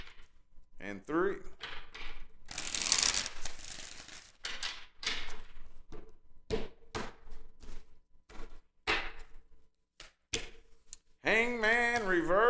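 A tarot card deck shuffled by hand in several bursts: scattered crisp flicks and a longer riffle, with pauses between them and a voice speaking near the end.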